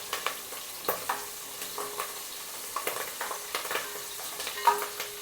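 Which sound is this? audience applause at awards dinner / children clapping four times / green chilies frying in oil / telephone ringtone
green chilies frying in oil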